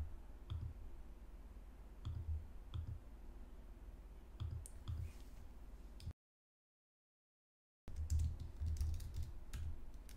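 Notes typed on a computer keyboard while filling in a form, steady close clicking in bursts, with a short silent gap partway through.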